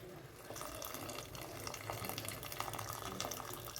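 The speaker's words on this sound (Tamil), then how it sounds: "இப்போது இந்த தண்ணி, பருப்பு வேக வச்ச தண்ணியை மட்டும் நான் எடுத்து ஊற்றிக்கிறேங்க." Cooked lentil water is poured steadily into a pan of drumstick sambar, a continuous close splashing stream of liquid that keeps going throughout.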